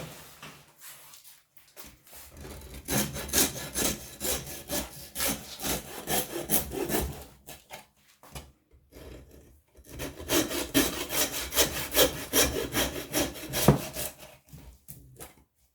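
A hand saw rasps through an organic lamb carcass being cut for the freezer, with two long runs of steady back-and-forth strokes separated by a pause, loud and close.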